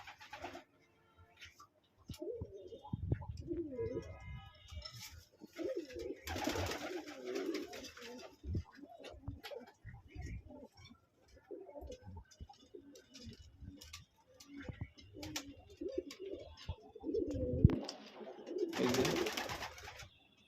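Pigeons coo repeatedly nearby in low, throaty bursts, with occasional flapping or rustling between the calls.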